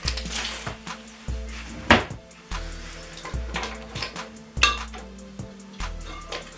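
Rocky road ingredients stirred in a pan while baking, giving soft, irregular knocks and scrapes of a utensil against the pan, several separate clunks at a quiet, close level with no talking.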